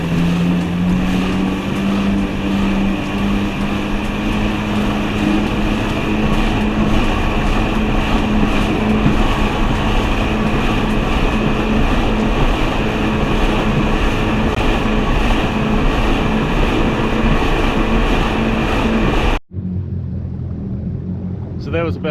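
2019 Yamaha WaveRunner running flat out at about 45 knots on the open ocean: a loud, steady engine roar with rushing wind and water noise, cutting off briefly near the end before a quieter rumble.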